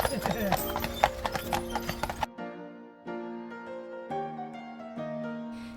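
Horse hooves on Mackinac Island, near the Grand Hotel stables, strike in a quick, even clip-clop for about two seconds, then give way to sustained musical tones.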